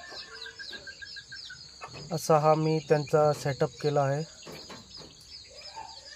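Desi hens perched up on a farm cluck in a short run of throaty calls near the middle, with insects chirping steadily behind and someone talking over them.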